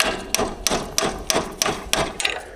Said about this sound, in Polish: Trzeba młoteczkiem puknąć.